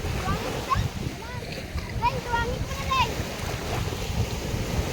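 Big ocean waves crash and splash continuously, with rushing surf and wind noise on the microphone. People talk and call out over the rough water.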